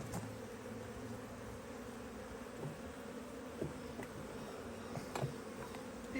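Honeybees buzz around a HiveIQ beehive during a late-season hive check, a steady low insect drone with a few faint knocks and taps over it.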